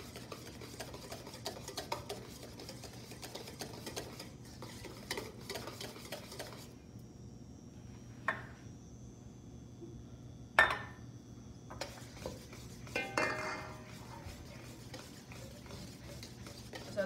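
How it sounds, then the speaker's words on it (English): Egg yolks, vinegar and lemon juice are whisked in a bowl for a Benedict sauce, giving steady close stirring and scraping with occasional sharper clinks of a whisk against the bowl, with no voices. "while I emulsify the egg yolks and vinegar and lemon juice mixture"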